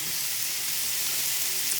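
Chopped bacon slices sizzle steadily in a hot pan, a dense, even crackle heard up close with no talk.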